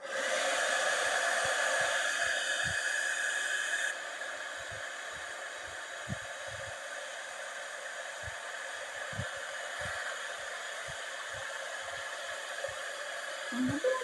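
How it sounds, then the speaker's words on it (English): A heat gun blows hot air while embossing a papercraft treat box, a steady close whooshing rush that drops to a lower level partway through, with faint taps underneath. "And I'm going to bring out my heat gun."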